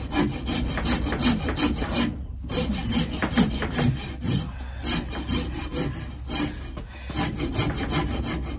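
A rasp scrapes knots off a wooden dipnet handle in steady, loud back-and-forth strokes, close and continuous for several seconds with brief pauses.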